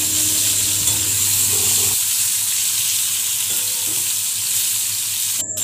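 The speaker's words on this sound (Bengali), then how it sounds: "একটা পেঁয়াজ কুচিয়ে সেটা দিয়ে দিলাম। এটা আমি লাল লাল করে একটু ভেজে নেব।" Chopped onion frying in oil with bay leaf, dried chili and cumin, a loud continuous hiss of sizzling close up with occasional stirring; no one speaks.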